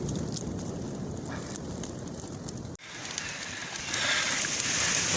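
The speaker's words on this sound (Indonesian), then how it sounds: "Cukup dengan membakar daun-daun cemara kering." Dry casuarina leaves burning in a campfire on a beach at Seuleukat, Aceh, with a steady, dense crackle and hiss that runs throughout and grows a little louder near the end, close by and without speech.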